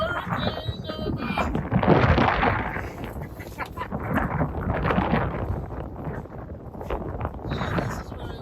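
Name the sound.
wind during Hurricane Irma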